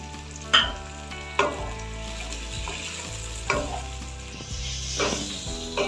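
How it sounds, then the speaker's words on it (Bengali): Chopped garlic, ginger and chilli frying with capsicum and onion in a pan for an egg and brinjal dish, a steady sizzle with a few sharp spatula scrapes and knocks, close and alone. "প্রথমে আমি দিচ্ছি রসুন কুচিটা তারপর আদা তারপরে লঙ্কাটা দিয়ে আবারও ভালো করে ভেজে নিয়ে ভেজে নেব"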